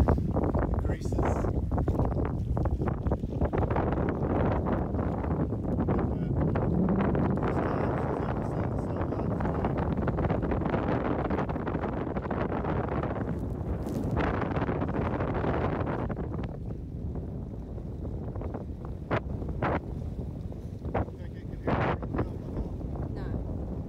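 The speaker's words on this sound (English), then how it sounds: "We got, I would say, probably 10 to 12 knots of wind right now." Steady wind buffets a Catalina 22 sailboat reefed under a heavy-weather jib in rough, shifting 10 to 12 knot breezes, a constant loud roar with gusty peaks that eases slightly toward the end.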